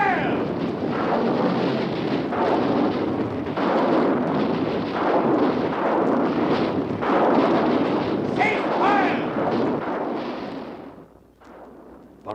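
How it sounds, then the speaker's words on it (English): Radio drama sound effect of artillery and rocket batteries firing in a Martian invasion battle, a dense continuous roar of blasts and rumbling booms that fades out near the end, with shouting voices mixed in. "Artillery batteries fire! Rocket batteries fire!"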